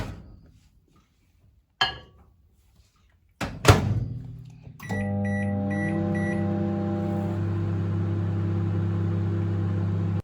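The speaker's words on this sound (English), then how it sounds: "You have to cook your brownie in the microwave between 1 minute and 2 minutes." A microwave oven cooking a brownie: a couple of thunks as the door shuts and buttons are pressed, then a steady low electrical hum with a whirring fan that settles in and drones on.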